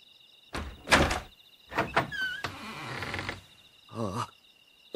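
A door swings open as a sound effect in a Japanese audiobook reading of Edogawa Ranpo's mystery Black Lizard. It gives a few short creaks and knocks over about five seconds, with quiet gaps between them and no voice.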